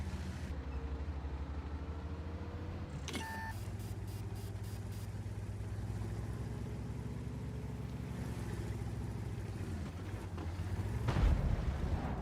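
Artillery shells from a tank game rumble in with a deep, continuous engine-like drone, broken by a sharp blast and brief ringing tones partway through and a heavier thud near the end.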